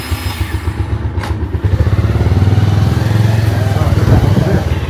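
A motorcycle engine idles close by with a steady, loud, throbbing rumble and a few knocks, under talk, as the bike gets ready to set off.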